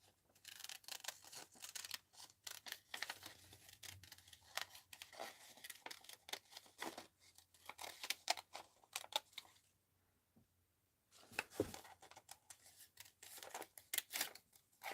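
Scissors snip steadily through paper while cutting out a mixed-media art journal figure, a quick string of close, crisp clips and rustles with a short pause partway through.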